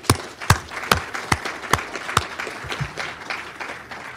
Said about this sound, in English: please join me in a warm round of applause for our presenters for each annual achievement award